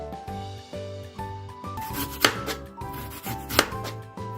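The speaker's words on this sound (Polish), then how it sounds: "Po obraniu jabłek kroimy je w cienkie plasterki." Peeled apples cut into thin slices with a knife, with steady rhythmic cuts and soft scraping close by over quiet background music.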